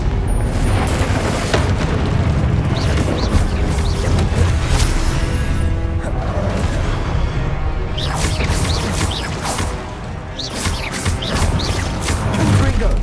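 Repeated Confringo blasting-spell explosions in Hogwarts Legacy: a string of heavy booms and crashing blasts over a constant rumbling, loud and close throughout, with a brief dip before the bursts pick up again.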